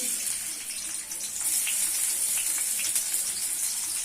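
Chopped onion frying in oil in a pan for a lentil tempering, giving a steady bright sizzle with crackling pops throughout.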